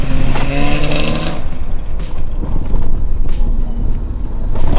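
Jeep Wrangler JK V6 engine accelerating on pavement in two-wheel-drive mode, a loud, steady engine roar with rising tone that holds throughout, with no talk.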